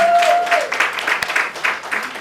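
Audience applause at an African women in real estate event, a steady wash of clapping throughout, fairly loud, with a faint voice briefly audible near the start.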